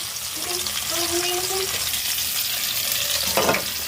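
Chicken pieces being set into hot oil in a pan, with a dense, steady sizzle and crackle close by. A short burst of extra spatter comes near the end, and no one speaks.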